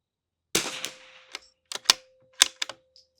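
Vudoo rimfire rifle shots cracking at an outdoor range while a scope is zeroed, a handful of sharp separate reports with a short pause between groups, fairly close and clear.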